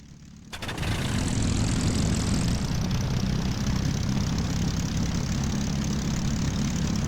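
Spitfire fighter planes in flight in a video game, their piston engines rising quickly from quiet into a loud, steady, continuous propeller drone that holds to the end.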